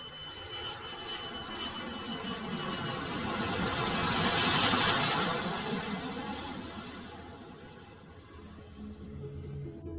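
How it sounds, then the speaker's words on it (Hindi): Airliner jet engines on Flight 236 bound for Lisbon, a broad, rushing roar with a high whine that swells to a peak midway and then eases, moderately distant and continuous with no voices. "कैप्टन सभी रूटीन चेक कंप्लीट करने के बाद इंजन को फायर करते हैं और फ्लाइट 236 लिस्बन जाने के लिए रवाना हो जाती है"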